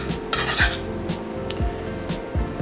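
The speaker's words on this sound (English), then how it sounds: "nice flat spatula, just kind of portion them out onto the plate as you see fit" A flat metal spatula scrapes and taps against a plate while portioning out potatoes cooked with onions, carrots and mushrooms, giving several sharp clinks and short scraping rubs at uneven intervals, close and clear.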